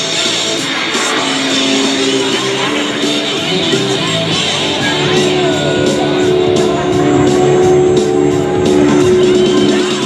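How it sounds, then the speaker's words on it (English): Hot Streak 2 jet truck at the NAS Oceana air show, its jet engine a loud, continuous roar that fills the whole clip, with faint crowd noise underneath. "Beautifully constructed Hot Street 2 jet truck."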